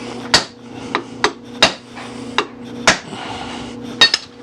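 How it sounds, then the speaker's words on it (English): A ball peen hammer strikes the abutment washer of a Daisy Model 96 Widebody BB gun in a series of about eight sharp metallic clanks at an uneven pace, close and ringing over a faint background hum. "Now let's get a ball peen after it."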